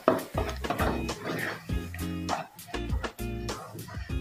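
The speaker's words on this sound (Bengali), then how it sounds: "এটাকে ভালো করে আর একটু কষিয়ে নিতে হবে।" A prawn chop mixture is stirred and fried in a pan, with soft scraping and occasional sharp clinks of a spatula against metal. The irregular strokes sit under steady background sound.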